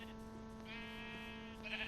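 Sheep bleat in a video game, a drawn-out wavering bleat in the middle and another starting at the end, moderately clear over a steady background hum.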